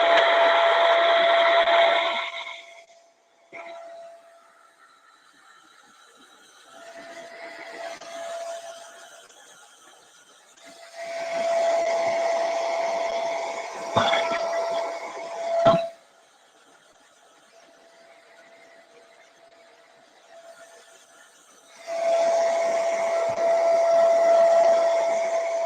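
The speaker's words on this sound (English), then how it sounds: "I'm going to do a quick blow dry here." A hair dryer set on low blows in steady bursts, switching on and off several times, a fairly close airy hiss with a faint tonal hum.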